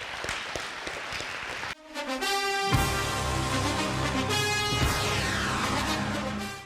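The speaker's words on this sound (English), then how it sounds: "let's have a big round of applause for these 11 seniors." An audience at a Trinity Christian School football awards banquet applauds eleven seniors. After a brief lull, loud, dense sustained clapping fills the hall and holds steady to the end.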